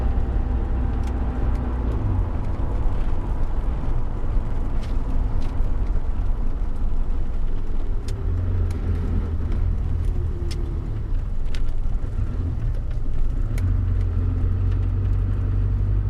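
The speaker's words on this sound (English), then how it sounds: "As we leave the lay-by and accelerate" Land Rover Discovery running on waste vegetable oil pulls away from a lay-by, its engine giving a steady, loud, low rumble from inside the cabin, swelling and easing over several seconds with faint rattles.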